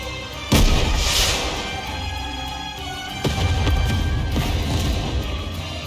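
A rocket launcher in the Nikke video game fires its shell over a snowfield, and a loud explosion booms. A second blast follows about three seconds later, both with rolling, rumbling tails.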